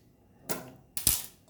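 Two sharp chopping knocks of a knife cutting hilsa fish into pieces on a board in a home kitchen, about half a second apart, close and fairly quiet, with near silence around them.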